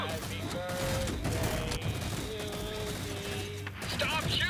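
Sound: gunfire in Red vs Blue episode

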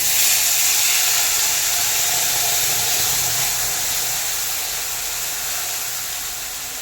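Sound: raw tomato and green chilli paste sizzling in hot oil

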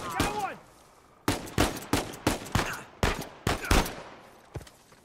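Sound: pistol gunfire in video game Uncharted 4

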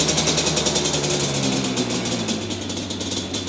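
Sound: Yamaha Banshee ATV engine running

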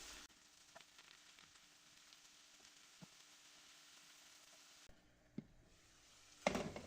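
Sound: onions and mushrooms frying in a pan

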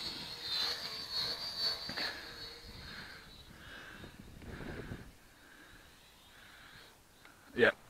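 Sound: Goolrc T6 waterproof drone flying

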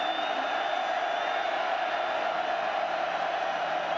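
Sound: football stadium crowd cheering on third down

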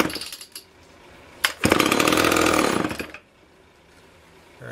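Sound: Homelite Super XL chainsaw engine running

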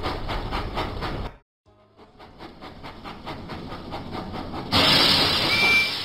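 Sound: steam engine puffing, from a video game

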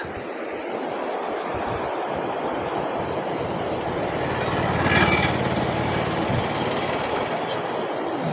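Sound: waterfall

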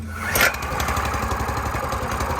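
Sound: Weima WM50 rotary tiller engine starting

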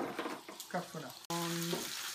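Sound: veal shin bones, onion and butter frying in steel pan

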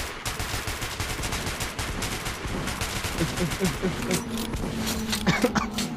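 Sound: gunfire in the video game Metro 2033 Redux

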